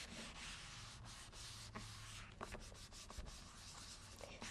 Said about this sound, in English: gently rubbing all over the surface